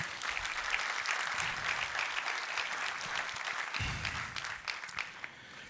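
A church congregation applauds, steady crowd clapping holding at an even level throughout, with no talking over it.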